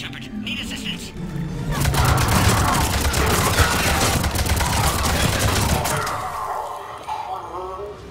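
Heavy, sustained gunfire in Mass Effect 3 fills a combat scene, a loud, continuous barrage that swells and then eases off toward the end, with voices over it.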